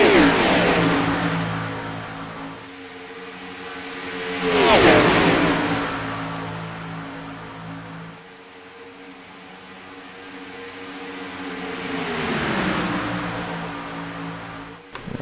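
Race cars of the lead pack in an oval superspeedway racing game sweep past in waves, their engine drone swelling and fading several times with no talk over it.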